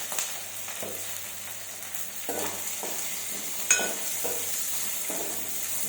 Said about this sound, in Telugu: తర్వాత ఎల్లిపాయ పేస్ట్ తర్వాత సగం గ్లాసు పప్పు పెసరపప్పు టమాటా వేద్దాం